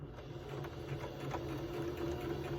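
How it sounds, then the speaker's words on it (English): A sewing machine stitches quilt fabric with a faint, steady mechanical hum and rapid needle chatter that holds even throughout, heard alone and fairly quiet. "So I'm going to start sewing this"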